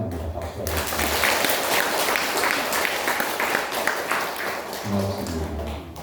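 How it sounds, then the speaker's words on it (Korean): A church congregation applauds during a Sunday service welcoming new members, broad steady clapping filling the space for several seconds, with a voice speaking briefly near the start. "박수 하겠습니다."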